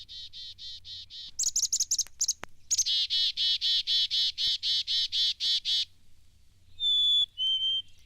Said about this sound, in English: Here, then, are the songs of the black-capped chickadee.